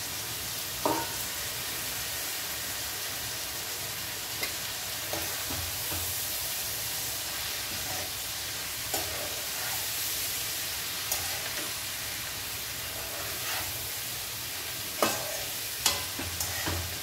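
Amaranth leaves frying in a pan with onions, a steady close sizzle and hiss with scattered stirring clicks and scrapes of a utensil throughout, no talking.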